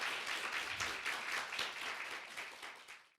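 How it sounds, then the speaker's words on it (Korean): Audience applause during a Korean religious lecture, a full steady wash of clapping from a seated crowd that swells briefly and then fades out within a few seconds. "이것은 박수를 한번 쳐야 된다고 생각합니다."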